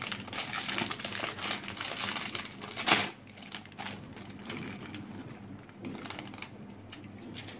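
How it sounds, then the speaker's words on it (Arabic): A plastic snack bag crinkles and crackles steadily as it is torn open and handled up close. There is a brief louder rip partway through, and the rustling carries on unbroken with no speech. "انا هفتح اول كيس"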